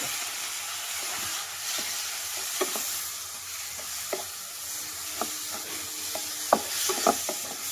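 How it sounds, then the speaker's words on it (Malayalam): Frozen tomatoes frying into a spice masala for brinjal curry, a constant low sizzle broken by scattered clicks and scrapes of a spoon stirring against the pan, growing busier toward the end. "മസാല പൊടികളൊക്കെ ഒന്ന് മൂത്ത് കഴിയുമ്പോൾ നമ്മൾ തക്കാളി കൂടി അങ്ങോട്ട് ചേർത്ത് കൊടുത്തു"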